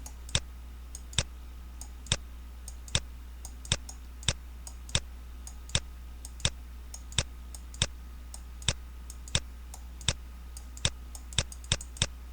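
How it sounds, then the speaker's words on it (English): A small handheld clicker snaps again and again at a steady, unhurried pace over a low background hum, with no voices. "my clicking is probably really loud"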